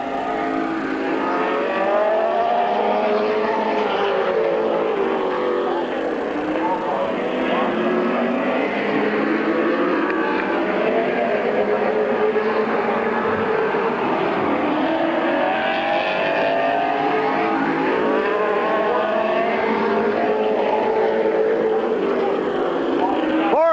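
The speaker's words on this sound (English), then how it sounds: "Marcus Malquit right there right behind him in the 75 car" Race cars roar around Midvale Speedway in 1994, a steady, loud engine drone with shifting pitch as the field circles, under continuous announcer commentary.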